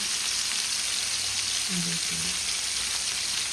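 Mackerel coated in green masala fries in hot oil, a steady close sizzle with a brief low scrape as the fish is turned.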